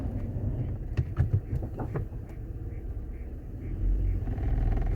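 A car rocks backwards and forwards with the engine revving and a low rumble as the clutch is deliberately slipped and burned, with brief clunks and rattles early on.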